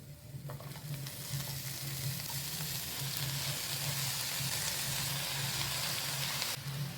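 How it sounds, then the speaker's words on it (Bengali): Red spinach with dried shrimp frying in a pan with turmeric and salt, a soft, steady crackling sizzle like light rain with a low hum beneath and faint stirring, heard close and without talk. "এবার লাল শাকগুলো দিয়ে দিচ্ছি।"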